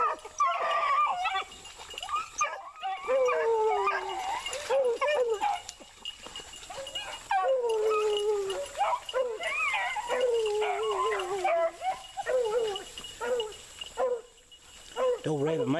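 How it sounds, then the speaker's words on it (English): Pack of beagle hounds baying and howling in a swamp while running rabbits, a chorus of overlapping bays and yelps from several dogs, fairly loud and continuous with brief gaps, mixed with occasional human voices. "Listen to them dogs, y'all. I got six of them."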